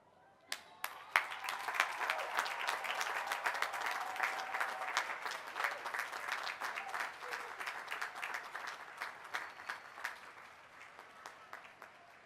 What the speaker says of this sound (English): join me in giving those people a well-deserved round of applause